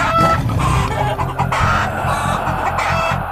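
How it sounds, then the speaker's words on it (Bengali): Chickens cluck and squawk loudly and close by at midnight, their agitated, overlapping calls repeating in uneven bursts with no pause and no voices. "মুরগিগুলো এরকম ভাবে ডাকছে কেন?"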